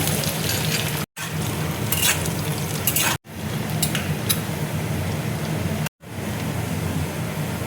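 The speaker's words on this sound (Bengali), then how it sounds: "এবার আমি শুকনো লঙ্কা দেখো ফোড়ন দিচ্ছি, রসুন কুচি দেখো দিয়ে দিচ্ছি, বাদাম দেখো দিয়ে দিচ্ছি" Dried chillies, chopped garlic and peanuts sizzle in hot oil with a continuous, hissing crackle that stops abruptly three times and resumes.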